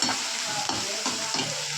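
Grated carrot and vegetables frying in oil for masala uppittu, stirred steadily with a spoon so a continuous sizzle runs under soft repeated scraping strokes against the pan, close up with no talking.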